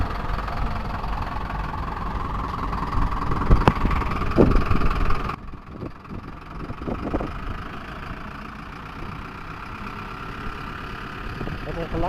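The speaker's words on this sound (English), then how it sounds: "What a powerful engine." A camper van's engine runs as the motorhome pulls away, a low, steady engine rumble with a louder surge in the middle, then settling, while people talk over it.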